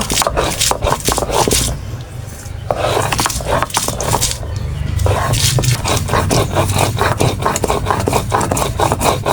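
Repeated rough scraping and grinding strokes, loud and close, in a quick uneven rhythm like stone crushing garlic into paste.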